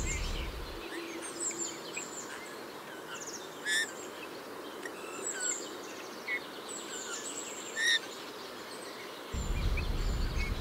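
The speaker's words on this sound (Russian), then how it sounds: "Сегодня записал песенку поющего снегиря" A bullfinch sings softly outdoors in early spring, thin, quiet piping notes and short chirps scattered over a hushed background, with a low rumble at the start and end.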